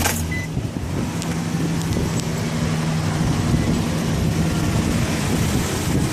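A car engine hums in a steady, close, low rumble after a clockspring repair, with no clear cranking burst, and a faint voice surfaces briefly over it.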